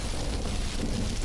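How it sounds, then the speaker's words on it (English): Heavy rain during a thunderstorm in the survival video game Stranded: Alien Dawn, a dense, steady hiss with a deep low rumble beneath it that fills the whole moment without pause and carries no voices. "And a thunderstorm's coming through as well."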